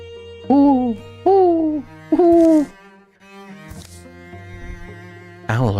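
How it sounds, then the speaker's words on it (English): An owl in Wildermyth hoots three times in a slow sequence, each call a clear, tonal, falling note, loud and close over quiet game ambience, followed by softer scattered sounds and a final higher call. "Owl, I guess."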